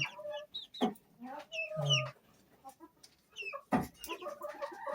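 Chickens and roosters on a small backyard farm with Rhode Island birds nearby, clucking and calling in overlapping bursts, some close and loud, others softer, with a brief low squawk partway through.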